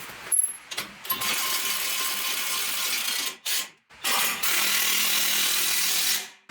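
A bolt is tightened with power tools on a go-kart rock crawler built from a Jeep Wrangler, heard as loud, close, sustained bursts of whirring and ratcheting broken by brief pauses, with no talk.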